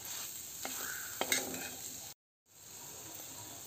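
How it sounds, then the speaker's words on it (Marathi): Masala with turmeric is stir-fried in a pan on low heat, giving a soft, steady sizzle with a few light spatula scrapes, close but quiet, with a short silent gap before the sizzle returns. "बारीक गॅसवर हे छान असं आपल्याला आणखीन परतून घ्यायचं आहे एक मिनिटभर।"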